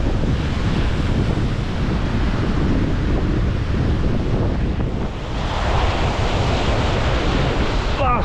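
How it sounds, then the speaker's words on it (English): Strong wind at sea buffets the microphone in a loud, continuous roar, with waves and surf washing underneath throughout, no talk. "this wind's pissing me off"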